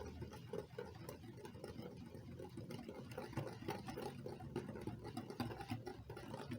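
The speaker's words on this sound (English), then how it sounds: "using a whisk, I'm going to whisk all my ingredients to combine" Corn dog batter ingredients are whisked together in a bowl, a quiet, quick rhythmic ticking and scraping of the whisk continuing steadily throughout.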